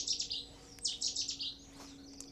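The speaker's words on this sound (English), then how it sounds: "Chetty's warbler confirming it." A Cetti's warbler at Elmley Nature Reserve bursts into loud, rapid chirping phrases, two quick clusters of bright notes close by, followed by a quieter stretch with a faint steady background hum.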